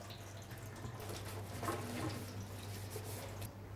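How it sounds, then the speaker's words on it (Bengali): A banana leaf is rinsed under a running kitchen tap, giving a soft steady stream of water with light splashes and squishy handling noises, close but quiet and without speech. "আমি একটু ধুয়ে নিলাম, কলা পাতাটা ধুয়েও নিতে হবে।"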